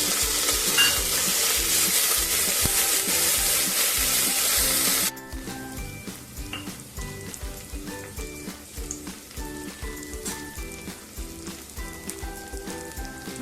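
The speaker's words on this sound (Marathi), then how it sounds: "थोडंसं लालसर होऊन द्यायचं म्हणजे त्याची चव थोडी याच्यात चांगली उतरते आणि हे वाटाणे घालून द्यायचं" Green peas frying in hot oil in a pan for Maharashtrian wedding-style masale bhat, with a loud steady sizzle that drops sharply partway through, then continues as gentler crackling and scraping from stirring.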